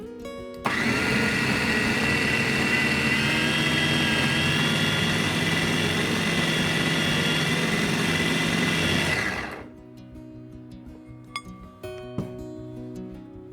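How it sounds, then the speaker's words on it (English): A meat grinder mincing small pieces of pork collar roars loudly and steadily for about nine seconds, then cuts off, leaving quiet kitchen handling and a couple of light clinks. "Cut into small pieces and put it in a meat grinder."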